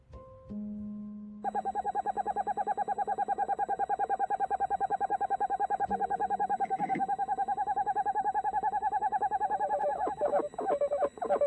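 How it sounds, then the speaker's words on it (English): An owl calling, a rapid series of repeated hoots and trills that continue steadily for several seconds, loud and close, preceded by a brief lower tone. "owls can seem downright alien. For instance, listen to this."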